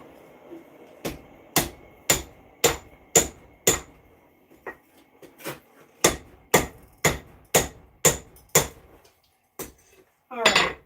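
Hammer blows forge the handle of a small Zangetsu sword replica from Bleach, with bright ringing metal strikes in steady bursts, some softer taps mixed in, and a quick rattling flurry at the end over faint room noise.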